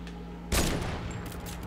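Gunfire in Fortnite, part of an RPG rocket strategy against an enemy player's base: a sudden loud blast erupts partway through, followed by a sustained noisy rumble and scattered crackling shots.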